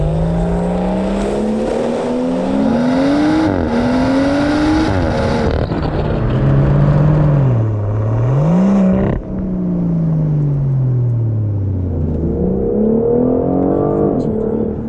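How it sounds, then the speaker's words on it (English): A BMW 760i V12 twin-turbo engine, tuned to over 700 horsepower, runs and revs loudly up close, its pitch climbing and falling through several pulls and shifts, with speech faintly mixed in. "all I gotta do is press this button, and we've got the nice, quiet relaxation of the BMW with the V12 twin turbo"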